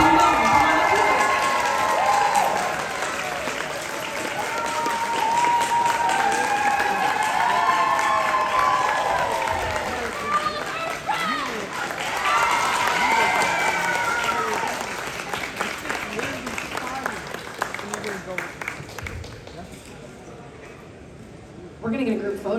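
Audience applause for the cosplay contest winners at Anime Wonder, MN State Fair Grounds: a loud, sustained roar of crowd clapping and cheering, with a voice talking over it, before it tapers off near the end.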